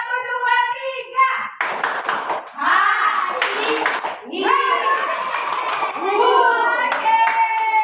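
In a classroom clapping game, children clap in a counted pattern of one, then two, then three, the close, crisp claps mixed in with their young voices speaking and chanting.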